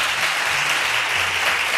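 Applause from a television studio audience at a carnival-themed show, dense steady clapping at full loudness throughout the short stretch with no voices over it.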